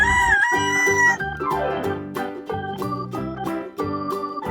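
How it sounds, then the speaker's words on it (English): A farm rooster crows loudly and close, a rising then falling call with several chopped, stuttering notes afterward, heard alone without any talking. "This is a rooster."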